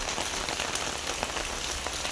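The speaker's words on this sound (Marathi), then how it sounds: "पाऊस बेकार लागता पाऊस एवढा असा ना" Heavy monsoon rain in Konkan pours down in a dense, steady hiss of drops hitting surfaces, unbroken and fairly close.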